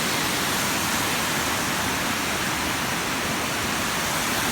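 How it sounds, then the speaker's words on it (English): Flood water roars steadily through a breached culvert across a street during a creek flood, a loud, dense, unbroken rush with no voices. "The water has breached the culvert across the street."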